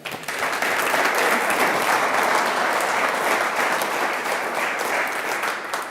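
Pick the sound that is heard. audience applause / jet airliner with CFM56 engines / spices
audience applause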